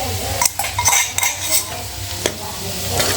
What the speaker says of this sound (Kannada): ಬೆಳ್ಳುಳ್ಳಿ ಒಗ್ಗರಣೆ